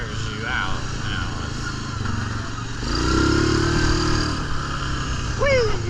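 An ATV engine roars steadily on an off-road trail at Durhamtown OHV Park and rises into a revving surge midway, close and loud, with a voice speaking over it.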